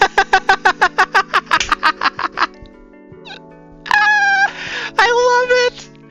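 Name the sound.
cat meowing in the video game Coffee Talk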